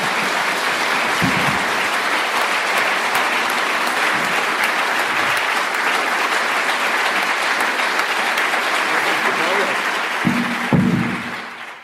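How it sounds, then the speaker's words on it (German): An audience applauds Heinz Stücke, the cyclist who spent 54 years riding around the world, with loud sustained clapping throughout and a few brief low voices and thumps breaking in near the end. "der Applaus ist dir"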